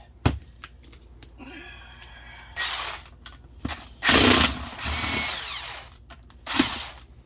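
Short bursts from a power gun spinning bolts out of an 2005 Acura TL transmission during a teardown, several whirring rattling pulses of a second or so separated by brief pauses, close and fairly loud.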